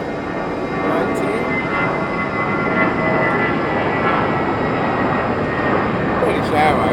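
An Airbus A319 jet at London Heathrow produces a steady, fairly loud engine roar that swells slightly as it passes, with a voice talking over it.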